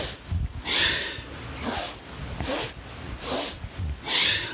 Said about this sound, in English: So you're sniffing in 3 parts, and then a 1-part full exhale